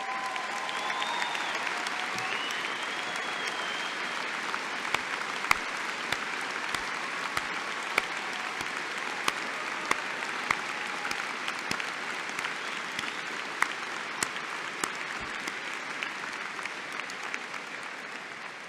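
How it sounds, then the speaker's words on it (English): Sustained audience applause fills a university commencement ceremony as veterans stand, a steady wash of many hands clapping from a large crowd, even and unbroken throughout with no talk over it. "Would all veterans please rise and accept our applause?"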